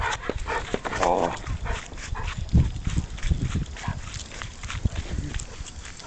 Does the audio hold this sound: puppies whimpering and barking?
yes